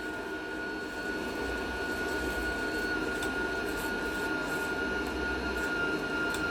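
The wire feeder motor of a Hyundai HG200 gasless flux-cored welder runs as it feeds wire. It makes a steady, continuous mechanical whine with a constant pitch, fairly quiet and heard alone.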